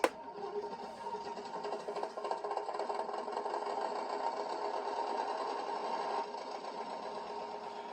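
Tongde 1/16 RC Centurion tank starts up with a small smoker motor whirring, a quiet, steady buzzing hum with faint rattle that runs continuously after a brief click at the start.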